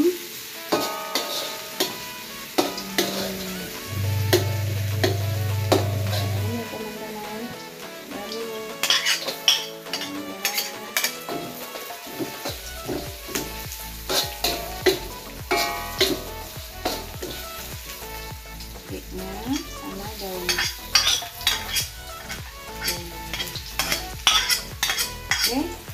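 Chopped garlic fries in a pan for a water spinach stir-fry while a spatula scrapes and clinks against the metal in quick, irregular strokes. Soft sizzling sits beneath the strokes, with music playing in the background and no voices.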